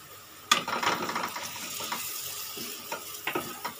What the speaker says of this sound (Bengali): ডিমগুলো দিয়ে ভালো করে কষিয়ে নেব।